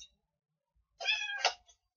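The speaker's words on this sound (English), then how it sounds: "these cats, both of my cats, Bear and Striper" Two house cats near a cardboard box let out a pair of close, clear meows in quick succession, the second shorter, after a quiet start.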